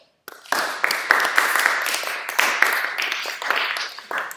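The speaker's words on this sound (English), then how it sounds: "Round of applause" Group applause in a conducting class bursts in after a short pause and runs steadily, with dense overlapping claps at close-to-medium range and no talk over it.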